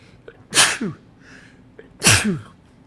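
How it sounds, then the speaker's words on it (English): Two sharp, loud sneezes come in quick succession, each a sudden burst with a short trailing breath, otherwise near silence. "Sneezing."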